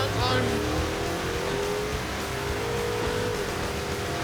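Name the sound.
car doing a burnout, tires spinning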